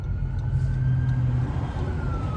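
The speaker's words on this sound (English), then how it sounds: "Ambulance coming." An ambulance siren wails from a distance with a sustained tone under steady traffic rumble, no talk over it.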